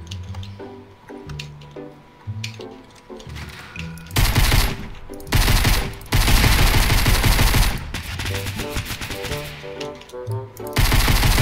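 Pistol gunfire in Fortnite rattles out in rapid loud bursts across several seconds, dense and close, breaking through quieter game sounds between volleys.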